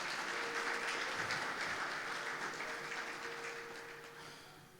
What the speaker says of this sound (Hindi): जोरदार तालियां हमारे खुदा के लिए